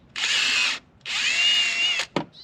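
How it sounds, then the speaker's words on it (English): A power drill boring into soft carburetor metal while working on an Arctic Cat 300 4x4 ATV: two sustained high whining bursts close by, the second longer, ending in a brief click and short squeal. "If I don't drill all the way through,"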